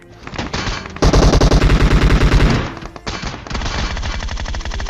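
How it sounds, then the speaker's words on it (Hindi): Loud, close automatic gunfire in a shooting video game, rapid bursts of rattling shots, including a dense sustained volley in the middle, with no talk. "अगेन यहाँ पे फायरिंग होनी स्टार्ट हो जाती है"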